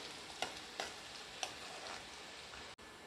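Onion frying in a pan for chicken keema gives a soft, steady sizzle, broken by a few short scraping stirs, close and fairly quiet with no talking.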